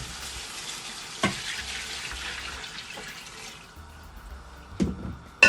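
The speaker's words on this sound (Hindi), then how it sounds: "तो अभी हम इसमें सूप जो है वो ऐड करेंगे" Stock is poured into a pot of browned chicken for degi yakhni pulao, giving a steady watery rush and sizzle with a few sharp clatters, close and clear.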